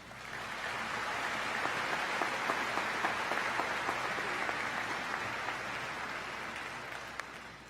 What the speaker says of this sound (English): Please recognize them with a round of applause.